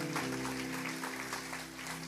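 Congregation applause from a large church women's congress gathering, steady and sustained throughout, with a low musical drone underneath.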